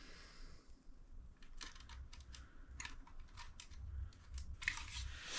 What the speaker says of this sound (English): we'll go ahead and pop that SD card back in the slot